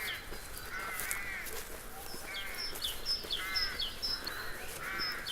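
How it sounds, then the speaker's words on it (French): Crows cawing on an urban walk through a residential neighbourhood, a series of harsh repeated calls at moderate distance over faint outdoor background noise. "J'entends des oiseaux."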